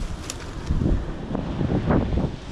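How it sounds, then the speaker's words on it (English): Strong wind buffets the microphone outdoors in an Oklahoma woodland during a morel mushroom hunt, a loud continuous low rumble with gusty surges throughout. "Man, it's windy here."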